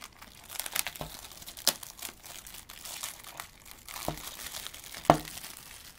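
Plastic shrink-wrap foil crinkles and tears as it is peeled off a Need for Speed Underground 2 collector's game box, in scattered crackles with a few sharper rips, close up and fairly quiet.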